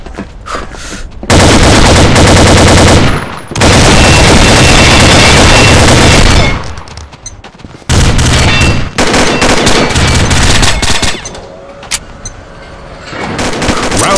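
M4A1 rifle gunfire in the shooter game Combat Arms, with long loud bursts of rapid automatic fire broken by short pauses, very close and dominant, no voices.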